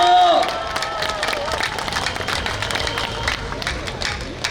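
A crowd at an outdoor political campaign rally in Gimcheon, South Korea, claps in a steady patter of applause with some cheering, while a voice briefly speaks at the start.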